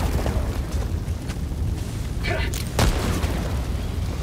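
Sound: explosion in the video game Helldivers 2

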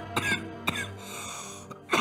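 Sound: coughing

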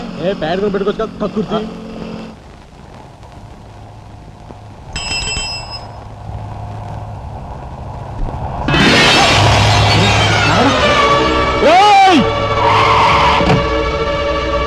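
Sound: car driving and skidding

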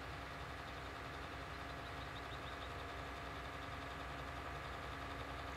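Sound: tractor engine driving an Autodrive route in a farming video game

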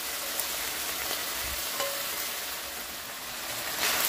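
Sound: food sizzling while frying in a pan

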